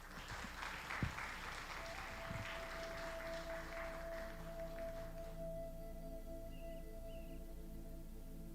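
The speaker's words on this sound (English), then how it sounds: "Can you please give her a huge round of applause?" Audience applause at a Spanish-language Buddhist talk rises as a dense, steady clatter of many hands, holds for about five seconds, then thins out abruptly, leaving a quiet room with a faint sustained tone.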